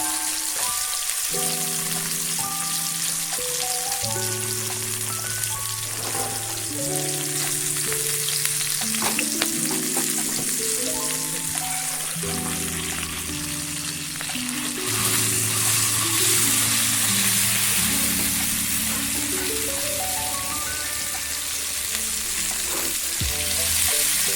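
Fish frying on a tawa over low heat, a constant dense crackle and sizzle running throughout, with faint tonal music-like hum beneath and no voices.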